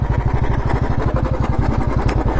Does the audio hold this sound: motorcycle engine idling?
yes